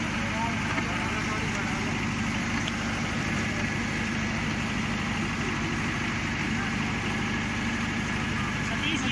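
A Mahindra 575 DI tractor engine idles with a steady, continuous low throb that holds at an even level throughout, with faint voices in the background.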